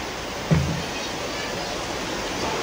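Heavy rain pours onto a house whose roof is leaking, making a steady, dense hiss of water with one brief thud early on and no clear voices over it.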